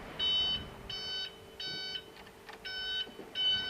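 A Baoli KBE25 forklift's seat warning alarm beeps, high and electronic, in steady, evenly spaced pulses, about six in a row, moderately loud over a quiet mechanical hum.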